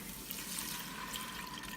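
Four cups of water pour steadily into a pot for shrimp stock, a soft continuous splashing rush heard alone without talk.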